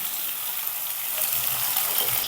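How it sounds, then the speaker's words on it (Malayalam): Three medium tomatoes, cut into small pieces, sauté in a pan for tomato rice with a steady, close hiss of frying. The hiss swells a little louder toward the end, and nobody speaks. "ഒരു മീഡിയം സൈസിലുള്ള മൂന്ന് തക്കാളിയും ഇതുപോലെ ചെറിയ കഷ്ണങ്ങളാക്കി ചേർത്ത് കൊടുക്കുന്നുണ്ട് ഇനി ഇതൊന്ന് നന്നായിട്ട് വഴറ്റിയെടുക്കാം"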